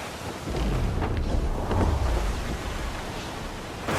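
A storm at sea in the video game Assassin's Creed Black Flag: a loud, deep thunder rumble swells and rolls over a constant roar of wind, rain and crashing surf, easing slightly before another burst near the end.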